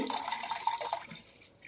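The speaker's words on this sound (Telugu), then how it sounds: "అయితే రెండు లీటర్ల నీళ్లు వేసేసుకుని" Water splashes steadily into a large pot for bael fruit juice, a close gushing pour that lasts about a second before it stops.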